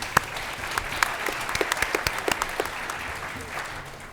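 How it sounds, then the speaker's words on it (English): A crowd applauding at a federal election all-candidates debate in Nanaimo, scattered claps building into steady clapping that fades out after a few seconds, with some chatter underneath. "I think they deserve a round of applause"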